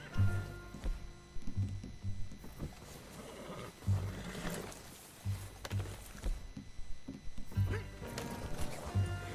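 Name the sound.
horse hooves in video game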